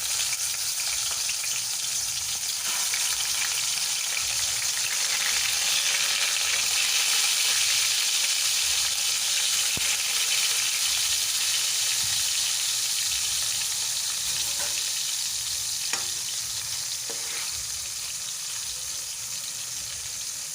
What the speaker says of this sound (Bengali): মাছগুলো ভালো করে এক পিঠ ভাজা হওয়া অবধি অপেক্ষা করব